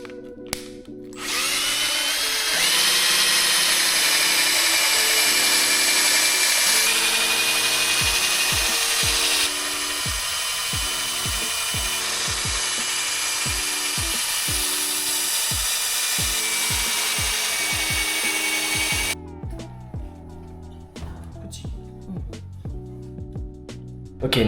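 IKEA power drill polishing car headlights, a loud steady whirring drone with a grinding rub against the plastic lens, sustained for most of the clip before stopping into a few brief clatters.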